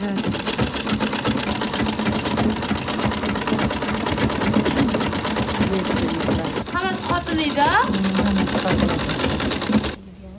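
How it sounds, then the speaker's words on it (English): A sewing machine stitches Uzbek silk in a southern village home, running as a loud, steady, rapid mechanical chatter for about ten seconds before stopping abruptly. "Shaknoza, however, is more interested in learning some tips on sewing Uzbeki silk from her grandmother."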